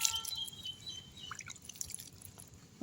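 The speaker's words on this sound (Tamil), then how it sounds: "தண்ணி தெளித்து விட்டுடலாம்" Light water drips and splashes land in quick, scattered bursts, close and soft, over a quiet background.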